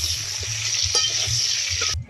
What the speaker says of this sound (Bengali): এবার আলুটা একটু ভাজবো।